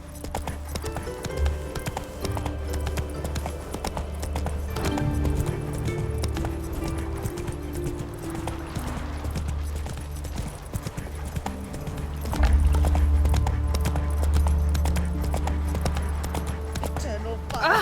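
Roach, a horse in The Witcher 3 video game, trots with steady clip-clop hoofbeats under a layered music score, the rhythm continuing throughout with a louder swell near the end.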